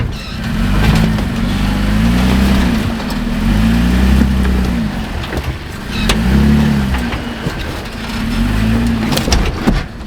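An IFS truck's engine labors up a rough, potholed mountain trail, rumbling loud and close with repeated swells of revving as the vehicle crawls over bumps.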